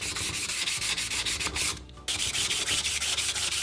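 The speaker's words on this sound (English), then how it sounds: "Just feathering this in real gently." Gentle sanding on a wooden surfboard, feathering a finish near the fin box: continuous close rasping strokes in quick rhythm, with a short pause midway before resuming.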